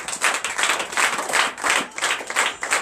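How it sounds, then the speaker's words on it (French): A church congregation applauds and claps in a rhythmic, pulsing wave during a deliverance and prophecy night service, the clapping steady and fairly loud with no voices on top. "Donne l'acclamation à Jésus."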